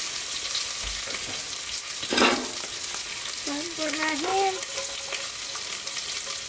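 Cheese omelet frying in a pan on a wood stove inside a winter wall tent, a steady close sizzle and crackle with a brief louder stir midway and faint tonal clinks later, no talking.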